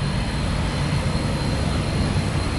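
McDonnell Douglas MD-11 heavy jet taking off at Tampa, a loud, sustained roar of jet engines with a thin high whine on top, steady and close throughout, with no voices.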